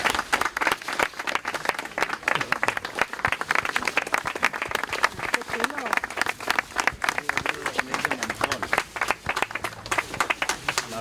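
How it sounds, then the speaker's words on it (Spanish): Audience clapping outdoors at the unveiling of a writer's monolith on the Paseo de las Letras, many distinct close hand claps in an uneven patter, with voices talking and murmuring among them. "A ver estas manos para aplaudir,"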